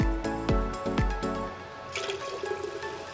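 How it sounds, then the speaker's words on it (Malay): Water is poured into a glass jug holding a passion fruit mixture for juice. Several sharp knocks come first, then a soft, splashing stream of pouring, close and modest in volume, with no talking. "Kita kena tambahkan air."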